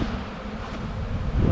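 Honeybees being shaken off a hive frame while the beekeepers search for the queen, giving a dense, steady buzzing swarm close by that swells louder near the end, with a faint voice underneath.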